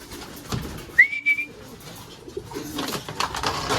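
Pigeons coo softly inside a loft: a short whistled call, then low murmuring and fluttering movement around it.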